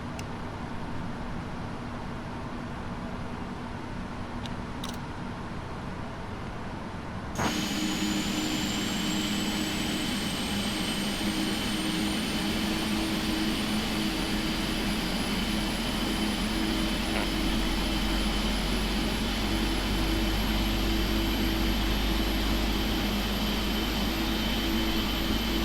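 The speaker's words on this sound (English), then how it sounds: "Start the left engine." In Flight Simulator X, the left jet engine of a PMDG 777-200LR spools up from a quiet cockpit hum, its rising whine climbing steadily and holding loud and continuous once it starts.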